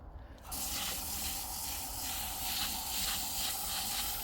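A child waters garden plants, a steady hiss of spraying water starting after a brief quiet moment and running continuously, close and fairly loud with no talking.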